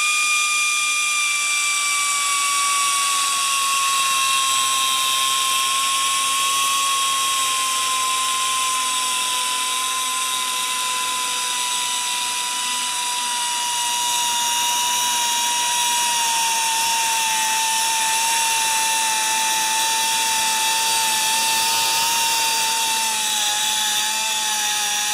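Biteharder power tool sharpening a drill bit, a loud, steady high-pitched grinding whine that slowly sags in pitch as it bears down, continuous for about 25 seconds with no talking.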